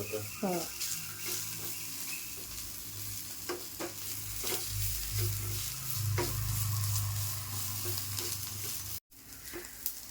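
Onion and coriander fry in a pan for a Malvani-style village crab curry, a close, steady sizzle with repeated scraping stirs and a low background hum, briefly cutting out near the end.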